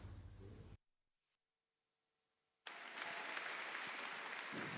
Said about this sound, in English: des applaudissements pour son Excellence le Président Macky Sall du Sénégal